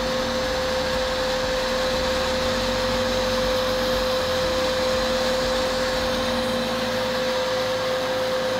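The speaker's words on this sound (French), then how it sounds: "On voit vraiment les vases se faire aspirer." Pond vacuum cleaner sucking up sludge from a pond bed, giving a loud, steady motor drone with a constant whine and a rushing suction roar that runs without a break.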